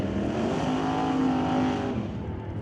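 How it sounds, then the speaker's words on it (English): Chevy Monte Carlo drag race car accelerating hard down the strip, a loud, sustained engine roar with a rising tone, steady and close throughout, with no talk over it. "Lorenz driving the Chevy Monte Carlo"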